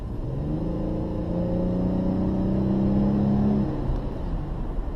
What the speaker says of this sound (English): when you press it, the car makes a noise and goes forward